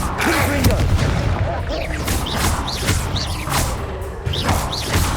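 Bombarda spell blasts in Hogwarts Legacy burst repeatedly amid a busy spell-combat mix, with thuds, crashes and whooshing magical effects piling up over about five seconds.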